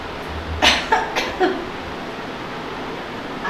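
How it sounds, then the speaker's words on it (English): Demonstration of a polite cough made into a hand held in front of the mouth: a few short muffled coughs close by, spaced roughly a third of a second apart, over a steady background hiss. "We should always cough like this."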